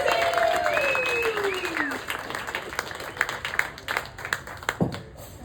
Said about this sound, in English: Start the round of applause.